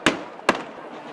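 Two sharp, loud rifle shots fired into the air about half a second apart, each leaving a brief echoing tail, with faint background murmur between them.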